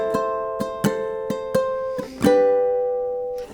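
Ukulele strummed in the ending rhythm of the verse of a song: a few quick separate strums, then a fuller strum left ringing and slowly fading, played alone up close.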